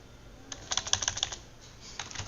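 Quiet typing on a computer keyboard while working in Adobe Illustrator, a quick run of light clicking keystrokes, faint and steady, then a few more taps after a short pause.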